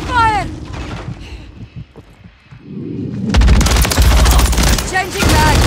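Loud automatic gunfire in Call of Duty Modern Warfare, rapid close bursts that erupt after a quieter stretch and keep rattling steadily to the end, with radio-style voices in the mix.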